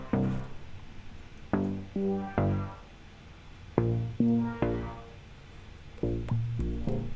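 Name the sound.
synth bass from a Korg synth preset with effects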